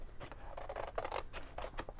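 Excess scrapbook paper is trimmed from a layered journal tag in quiet, close snips and papery crunches repeated in a quick, uneven rhythm.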